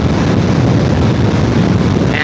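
Honda Shadow 1100 motorcycle cruising at highway speed around 85 mph, a steady loud roar of engine drone mixed with heavy wind rush across the microphone, continuous with no breaks.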